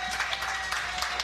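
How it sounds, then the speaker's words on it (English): Audience applause fills a grill and bar during a holiday-season gathering, a steady wash of clapping from a crowd that stays even and sustained across the whole moment. "How about a hand for Coach McCaffery"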